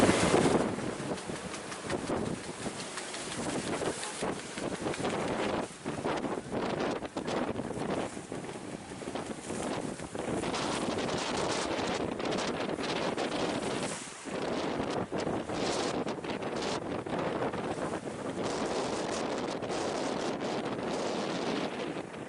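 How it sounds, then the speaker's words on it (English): Gale-force wind roars steadily across the microphone aboard a sailboat at sea in stormy conditions between Portugal and the Canaries, a loud continuous buffeting with water and hull noise beneath. "So the wind just picks up to like gale force."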